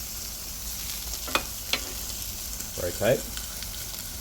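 Pork spare ribs sizzle over direct flame on a gas grill with high burners, a steady frying hiss broken by a few sharp pops and flare crackles while someone briefly speaks.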